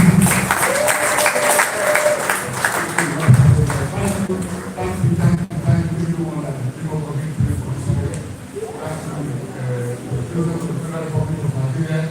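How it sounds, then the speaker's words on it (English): An audience applauds to welcome His Royal Majesty, an Igwe, at a live event. Steady crowd clapping runs throughout, mixed with talk and music. "Ladies and gentlemen, we can have the applause"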